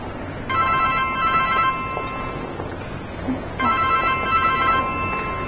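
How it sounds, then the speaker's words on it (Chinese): A telephone bell rings indoors in two bursts of bright, buzzing trills separated by a short pause, clear and fairly close against a quiet room. "我先接个电话"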